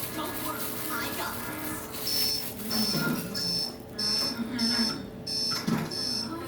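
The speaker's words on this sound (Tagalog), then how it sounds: "Why do I still hear the alarm? Dude, it's still alarm clock." An alarm clock beeps in a regular repeating pattern of short high tones, moderately loud over a busy kitchen background where cookies are being baked.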